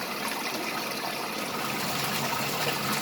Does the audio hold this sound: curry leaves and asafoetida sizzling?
no